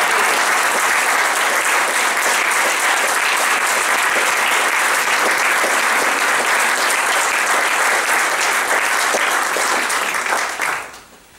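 Audience applause at a poetry talk, a dense steady clapping that fills the room for about ten seconds, then fades out quickly at the end.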